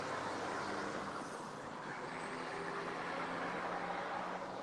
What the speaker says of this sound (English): Pardon me, there's a huge Mack truck.